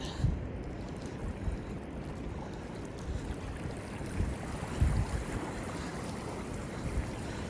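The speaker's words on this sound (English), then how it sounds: "This is the biggest creek that we'll go through today" A cold creek on a hiking trail rushes and splashes steadily at a crossing, a broad wash of moving water with faint wind and occasional louder surges, no voices.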